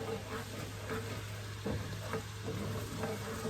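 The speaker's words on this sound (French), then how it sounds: "Je vais brasser ça comme ça" Bite-sized pork chops frying in a pan with honey give a steady close sizzle, with a few soft scrapes of a stirring utensil and a low hum beneath.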